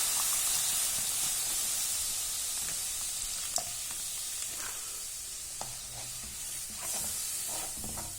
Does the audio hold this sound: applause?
no